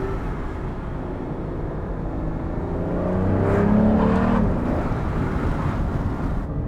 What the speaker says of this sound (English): Can you hear this V12?